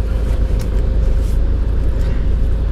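A Toyota Innova diesel being parked, its engine giving a loud, steady low rumble heard from up close inside the vehicle, without speech.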